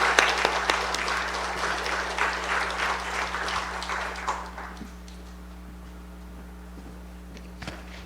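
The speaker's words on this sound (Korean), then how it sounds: "우리 박수로 우리 안호령 피택 장로님을" Church congregation claps in welcome for an elder-elect, dense broadband applause filling the first five seconds before fading to a quiet room with a steady low hum.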